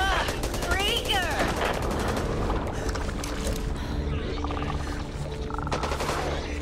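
Rapid gunfire and explosive bursts fill a Back 4 Blood co-op match, dense and loud throughout, with shouting voices and game effects mixed in.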